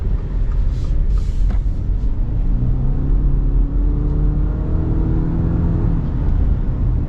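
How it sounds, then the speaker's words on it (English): A 2025 Subaru Forester Sport accelerates hard, its engine rising in a steady, loud drone with road rumble building underneath, heard from inside the cabin with no talking. "let's get our acceleration with this new Forester"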